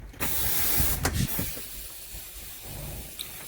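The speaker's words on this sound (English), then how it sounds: "what she's gonna do now is she's gonna release her parking brake" Releasing a truck's air parking brake sends out a loud burst of hissing air that fades into a softer, lingering hiss, with a few faint clicks nearby.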